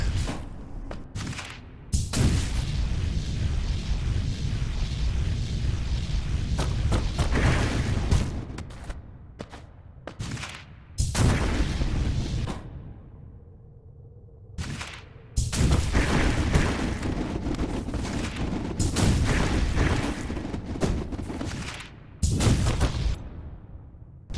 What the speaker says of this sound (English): spamming the super dash is the fastest way to go back